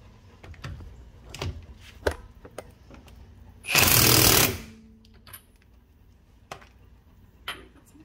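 An impact wrench fitted with a protective socket tightens lug nuts on R32 Nissan Skyline GTR wheels being mounted on an S13 240SX, giving one loud buzzing burst of about a second amid scattered clanks and handling noises.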